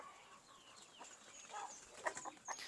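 Rhode Island Red chickens clucking on a farm, a few soft, short clucks and calls rising in the second half, fairly faint and close-by with no talking.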